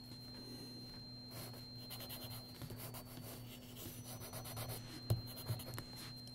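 A graphite pencil scratching and rubbing on paper during a quick portrait sketch of a girl, soft continuous strokes close up over a steady background hum.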